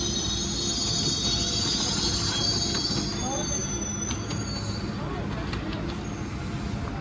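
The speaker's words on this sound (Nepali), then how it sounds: "यहाँबाट ट्रेन आउँछ।" A pink-coloured train in Delhi rumbles steadily with a high metallic wheel squeal that fades out midway, heavy and near, as it pulls in alongside the platform.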